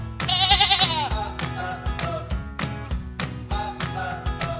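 Loud, wavering sheep bleats sound in quick succession near a children's playhouse, several short quavering calls following one another with no talking.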